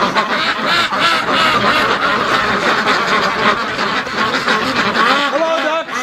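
A flock of ducks in a pen quacks loudly and without pause, many overlapping calls close by.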